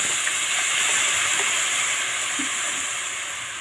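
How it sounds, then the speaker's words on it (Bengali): Water poured into a pan of jute greens already frying in a little oil, making a steady close hiss and sizzle that slowly fades over a few seconds, with no voices. "একটু জল দিয়ে দিলাম"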